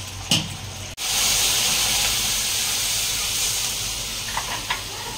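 Egg and vegetables for Maggi noodles sizzle in a hot wok, with a steady steamy hiss that swells sharply after a brief clatter and holds strong, a few faint taps near the end.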